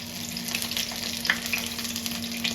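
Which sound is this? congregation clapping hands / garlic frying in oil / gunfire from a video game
garlic frying in oil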